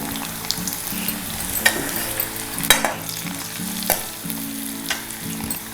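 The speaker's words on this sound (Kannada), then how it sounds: "ಕರಿಬೇವನ್ನು ಹಾಕ್ತಾಯಿದ್ದೀನಿ" Curry leaves crackle and sizzle loudly in hot tempering oil, a dense continuous close frying with a few sharp utensil knocks and scrapes, and no voices.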